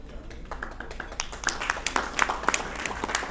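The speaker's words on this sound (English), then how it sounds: "A big round of applause." An audience at a company event claps in a scattered round of applause: sparse, uneven hand claps rising and falling at moderate volume for a few seconds, with no voices over it.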